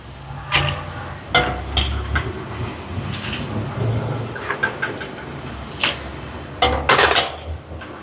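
A pot of beetroot is lifted off a stove in a Sri Lankan home kitchen, giving several sharp, close metallic clanks and scrapes at irregular intervals.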